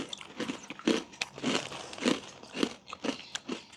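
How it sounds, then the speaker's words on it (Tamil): A crunchy Sri Lankan snack from Jaffna is bitten and chewed, giving about eight loud, close, crackling crunches in a steady rhythm with no talking. "பழைய மாதிரி அவனே ஃபுல்லா கொடுத்துட்டா கடிக்க சத்தம் வருமே"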